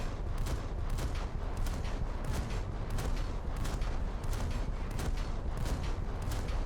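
Naval guns firing aboard a ship in War Thunder, a dense barrage of repeated sharp reports in quick succession, loud and continuous with battle noise underneath.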